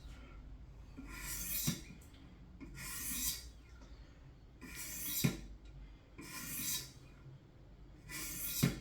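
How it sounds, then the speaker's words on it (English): Knife blade drawn along the stones of a Wicked Edge sharpener, five separated pairs of soft, hissing scrapes spaced a couple of seconds apart, close but fairly quiet. "I am just going to do a couple strokes again, same as I did with that last knife."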